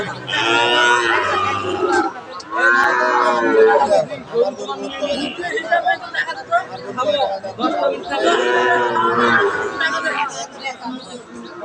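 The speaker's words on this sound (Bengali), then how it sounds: "আমরা আশেপাশে আরো কিছু গরু দেখছি" Cattle, including Sahiwal bull calves, low and moo in a long drawn-out way, several calls in a row, over people chatting in a busy crowd at Aftabganj cattle market, Dinajpur.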